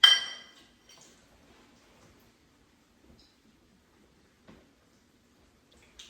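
Glasses clink together in a toast, one bright, fairly loud clink at the start, followed by near silence with a few faint small knocks.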